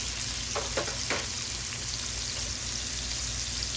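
Onions, mushrooms and ginger hit hot oil for shrimp with snow peas and sizzle loudly and steadily. A few quick scraping strokes near the start come from stirring. There is no talking.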